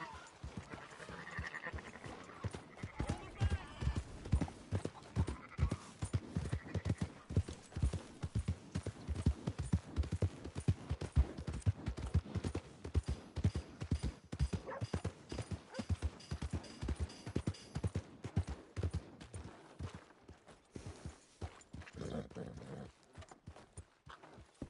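Horse hooves clip-clopping in Red Dead Redemption 2 story mode, a steady rhythmic plodding of hoofbeats that runs nearly throughout, moderately close, with characters talking over it at times.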